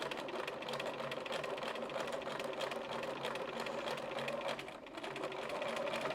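A sewing machine runs steadily, stitching elastic onto a fabric grocery bag, its fast even whirr holding close and constant with only a slight dip near the end and no talk.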